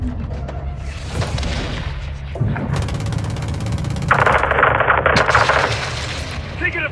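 Gunfire and explosions in the video game Call of Duty Modern Warfare II, with bursts of automatic fire, booming blasts and sustained fusillades, loud and close, mixed with shouted voices.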